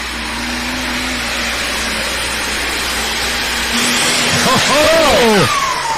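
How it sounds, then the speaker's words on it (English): A diesel Superstock pulling tractor roars during a run at a tractor pull in Bowling Green, Ohio, its loud, continuous engine drone swelling and climbing in pitch toward the end. "That's a diesel tractor running against these open tractors here tonight."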